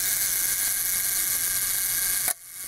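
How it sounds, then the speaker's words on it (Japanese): A 1962 German-made Leica M3 late single-stroke rangefinder camera's self-timer whirs steadily and evenly, close and clear, then stops abruptly with the shutter release near the end. "ここでシャッターが切れて、最後までしっかりと動作しております"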